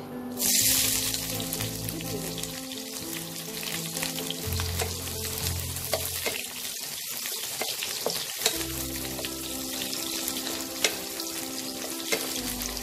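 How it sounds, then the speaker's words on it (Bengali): Onions hiss and sizzle loudly in hot mustard oil in a wok for baingan bharta, an intense burst as they hit the oil, then steady frying with occasional knocks of a stirring spoon. "পেঁয়াজটা হালকা ব্রাউন করে আমি ভাজবো"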